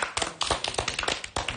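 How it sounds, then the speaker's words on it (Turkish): A small group of people clapping their hands together, with irregular close bursts of applause over a couple of seconds. "Alkışlayalım bu medeni hareketi."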